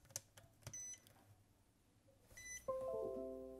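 A Hota D6 Duo Pro charger in firmware update mode gives faint electronic beeps, a few short tones early on and then a run of quick chirps near the end, with low background hum.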